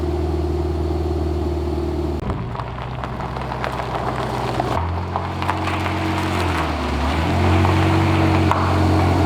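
A loud Lamborghini engine rumbles steadily with deep harmonic tones, its pitch shifting as it revs and settles, close and continuous throughout.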